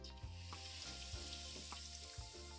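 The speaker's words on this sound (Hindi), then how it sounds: "तेल गरम हो गया है। इसमें हम डालते हैं हींग," Asafoetida hits hot oil in a pan while cooking mirch tufani, giving a steady close sizzle and crackle with a few small pops and stirring knocks, no talking.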